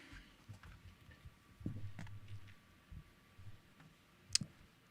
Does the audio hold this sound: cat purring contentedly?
no